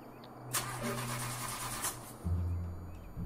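A car engine cranks with a rough grinding starter whine that sputters and stalls, then a low rumble kicks in briefly, up close.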